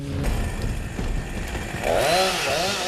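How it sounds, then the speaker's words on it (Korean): A chainsaw roars steadily up close, its pitch rising and wavering as the blade bites into a huge old tree trunk on a wooded hillside, growing louder toward the end. "야산은 기계톱 소리로 가득하다"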